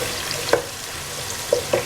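A bay leaf dropped into hot oil for Nigerian party jollof rice, giving a low sizzling hiss with a few brief pops and crackles around the start and end, no talking.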